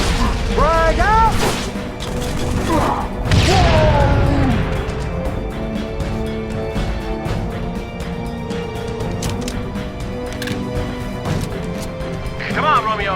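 A frag grenade thrown and bursting in the Halo video game, a loud crash and boom near the start amid chaotic battle noise, with character voices shouting over the combat.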